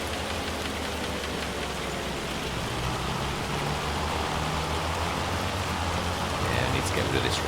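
Rain falls in the farming video game Farming Simulator 25, a steady, even hiss of downpour with a low rumble beneath it, continuous and moderately loud throughout, with no voices.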